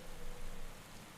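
Steady rain in the cycling game Pro Cycling Manager 2015, heard as an even, dense hiss of falling water with no other sounds across the brief stretch.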